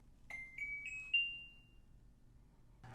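A kitchen timer sounds four quick rising electronic beeps, close and clear, at the start of an Ooni Volt 12 pizza oven preheat test, then goes quiet with a brief knock at the end.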